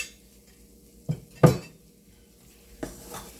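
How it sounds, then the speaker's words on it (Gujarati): A spoon stirs jaggery sukhdi dough with ghee in a pan, producing a few distinct scraping clinks and a short metallic knock against the pan, sparse and close in an otherwise quiet room. "આ રીતે આપણે હલાવતા રહેવાનું છે"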